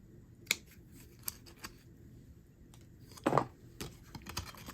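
Scissors snipping through cardstock in a craft session, a few sharp close cuts with one longer crunching cut midway, quiet background otherwise.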